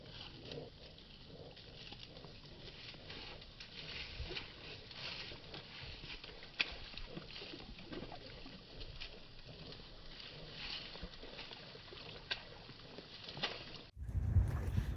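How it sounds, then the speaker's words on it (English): Rain pattering steadily onto a lake's surface, a soft continuous fizz of fine drops close by and fairly quiet, ending abruptly in a low rumbling thump. "That lovely rain hitting off the lake."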